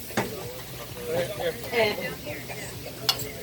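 Garlic and onion brown in a hot pan, with soft sizzling broken by stirring scrapes and a clink of a spoon against the pan as a chef speaks over it.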